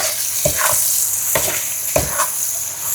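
Food fries in a pan under a steady bright sizzle while a spoon stirs it in three distinct scraping strokes spaced about half a second to a second apart, close and fairly loud.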